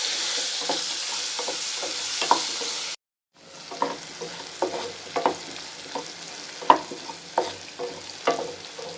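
Onions frying in a pan for a dried prawn and methuku vathal stew, with a steady close sizzle and repeated scraping stir strokes, broken by a brief silent gap, no voices.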